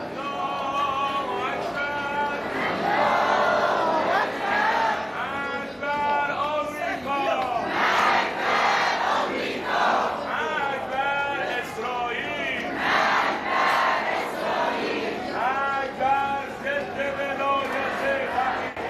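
Large crowd at the funeral of Ayatollah Ali Khamenei in Qom and Tehran, a dense, continuous roar of many voices chanting and shouting together, loud and sustained throughout.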